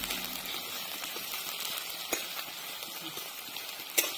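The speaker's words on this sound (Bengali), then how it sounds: "তেলটা গরম হয়ে গেছে। এখন পেঁয়াজটা বেশি আর কি ভাজবো না, অল্প ভাজবো" Chopped onion frying in hot oil for a peanut bhorta, a steady soft sizzle throughout with a couple of faint sharp clicks, quiet and close, no talking.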